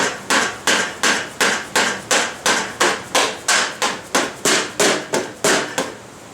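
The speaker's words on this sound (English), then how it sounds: "so I'm going to keep hammering away here" Evenly spaced metal hammer blows driving an axle through a Harley-Davidson motorcycle rear wheel, around fifteen sharp ringing strikes at a steady rhythm, loud and close with nothing else between them.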